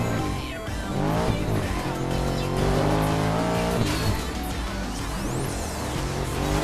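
A Bentley drives in Need for Speed, its engine roaring loudly and steadily with rising revs and squealing tires throughout.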